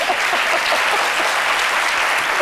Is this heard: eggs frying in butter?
no